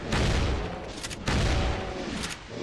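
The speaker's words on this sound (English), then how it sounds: "Just a machine gun." Rapid machine gun fire in the shooter game Doom 2, two loud sustained bursts of dense booming shots with a short gap between them, filling the whole clip.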